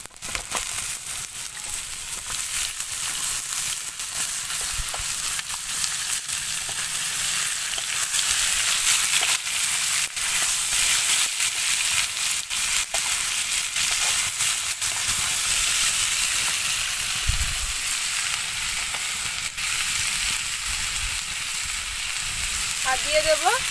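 Chopped potato and cauliflower frying in a pan with lightly fried onion, a steady close sizzle and crackle running throughout with occasional stirring.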